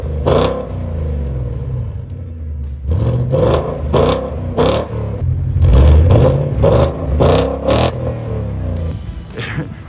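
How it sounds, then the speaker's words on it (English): A 2020 Shelby GT Heritage Mustang's quad-tip exhaust barks through a series of loud, sharp revs, several quick blips rising and falling over a deep idling rumble, close up. "As you can tell, a very good sounding exhaust."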